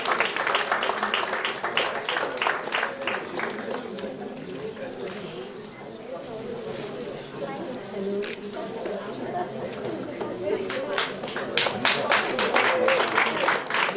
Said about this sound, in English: Please applaud students.